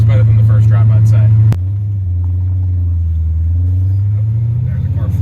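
Built 6.0 V8 in a Pontiac GTO pulls under gentle throttle, a steady low engine drone that dips briefly then builds again, heard from inside the car with someone talking over it.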